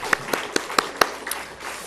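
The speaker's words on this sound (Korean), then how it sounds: "하나님께 영광의 박수를 드립니다" Church congregation clapping in praise after a children's worship song, heard as about six sharp, evenly spaced claps in a quick steady rhythm, fairly close, and then trailing off.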